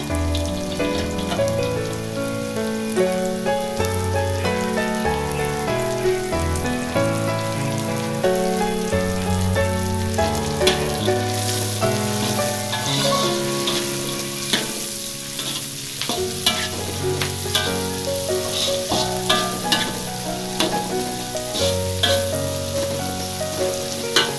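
Carrots being stir-fried in a pan for sweet and sour pomfret, a steady loud sizzle with repeated scraping stirs, while tonal background music plays throughout.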